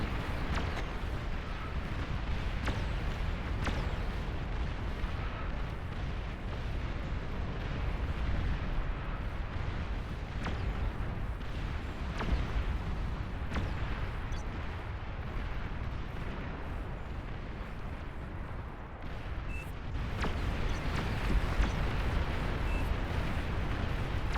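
Calamity artillery in the strategy video game Beyond All Reason fires relentlessly during an 8v8 battle, producing a dense, continuous roar of booming shots and explosions at steady loudness throughout.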